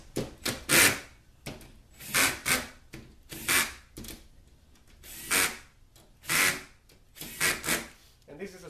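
Manual screwdriver turning and rubbing on the solenoid bolts of an AW55 automatic transmission valve body, giving repeated short scraping bursts in an irregular rhythm, close and fairly quiet.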